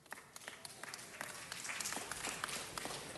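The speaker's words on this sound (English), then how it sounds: "They all deserve a huge round of applause." An audience at a city council meeting claps for event underwriters, a dense, steady patter of many hands that swells slightly toward the end, heard from across the room at moderate volume.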